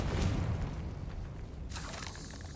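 The Confringo blasting spell in Hogwarts Legacy sets off a deep booming explosion that rumbles and fades, followed by a second, brighter burst of hissing noise, with no talk over it.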